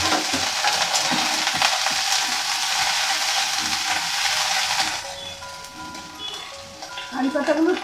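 Curry leaves dropped into lentils frying in a pan give a loud, dense sizzle for about five seconds, which then eases into a quieter crackle with some faint tonal sounds.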